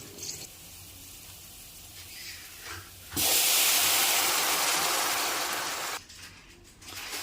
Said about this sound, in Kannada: ನಾನು ಇದಕ್ಕೆ ನೀರು ಸೇರಿಸ್ಕೊತಾ ಇದ್ದೀನಿ, ಬಿಸಿ ನೀರನ್ನ.